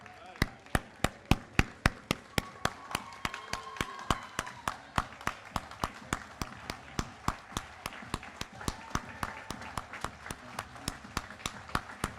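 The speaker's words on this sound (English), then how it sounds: "Can we give them a huge round of applause?" Rhythmic, evenly spaced claps from an audience at a school CTE signing day ceremony honoring dancers and new students, steady unison clapping lasting the whole stretch over a low murmur of the room.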